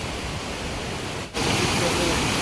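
A waterfall near Dhutpapeshwar temple in light rain gives off a steady broadband roar, briefly dipping as the sound is cut and then returning louder and closer.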